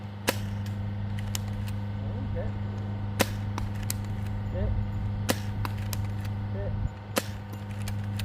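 Nerf Slab blaster loaded with nitro shot darts, firing a handful of sharp, loud cracking shots spaced a second or two apart over a steady low hum, with a voice speaking between shots.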